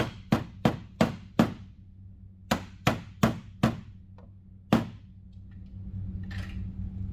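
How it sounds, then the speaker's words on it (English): A mallet taps plastic clips into holes on a 2014-2018 Jeep Cherokee while fitting mud flaps: about ten sharp, close knocks in quick uneven groups, then quieter handling noise. "you may need a mallet, and so we're just going to tap those in place"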